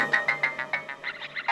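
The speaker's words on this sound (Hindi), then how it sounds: "फोन फिर से फोन किसका?" A phone ringtone rings in a Hindi TV drama scene, a bright electronic melody of about ten quick repeated tones in a steady rhythm, loud and clear with no talk over it.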